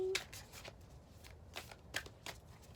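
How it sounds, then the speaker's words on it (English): A large deck of spirit animal oracle cards is shuffled by hand, giving several brisk, close papery riffling bursts separated by short pauses. "See, this is a bigger deck to shuffle."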